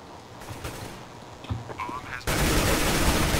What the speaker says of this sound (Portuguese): Deu um tiro.